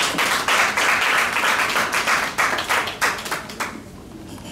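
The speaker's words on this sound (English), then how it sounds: "Give yourself a round of applause for making that journey." Conference audience in Ghana applauding, a dense wash of many hands clapping that stays steady, then thins and fades toward the end with scattered individual claps.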